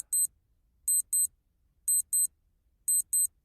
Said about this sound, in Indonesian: Di bawah kantong tidur ada jam alarm yang udah diatur.